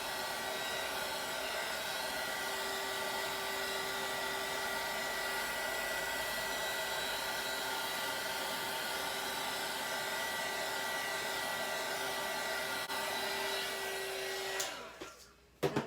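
A heat gun blows hot air over resin art in a steady, loud, close whoosh with a constant whine, then clicks off abruptly near the end, with nobody speaking.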